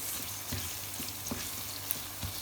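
Tomato paste and red pepper hit a hot pan for a bean dish, producing a brief, steady sizzle with light stirring taps.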